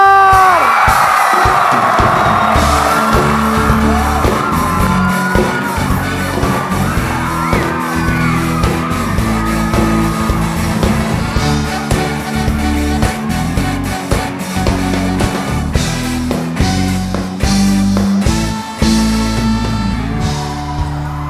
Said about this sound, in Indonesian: Tepuk tangan yang paling meriah untuk